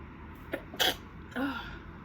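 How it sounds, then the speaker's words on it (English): A single sneeze with a sharp inhaled lead-up and a burst, followed by a brief exhale, close and fairly quiet against room tone. "I need to sneeze."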